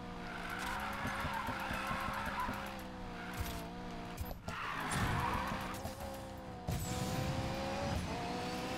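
A car drifts through a drift zone in Need for Speed Payback, engine droning with harmonic whine while tires squeal and skid in long sweeping passes, briefly cutting out twice before the slide resumes.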